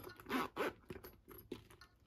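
A zipper pull slides along the zipper of a TPU vinyl bag being made, with two quick raspy zips close up followed by a few softer, shorter clicks and rustles.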